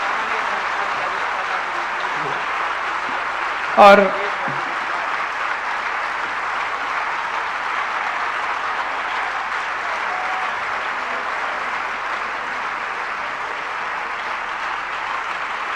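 Sustained applause from an audience at a Jain religious gathering, a steady wash of clapping that fills the whole stretch at an even level, with a brief louder clap or knock near the start and a voice barely heard.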